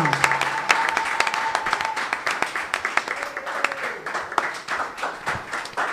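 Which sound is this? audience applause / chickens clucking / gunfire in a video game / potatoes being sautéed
audience applause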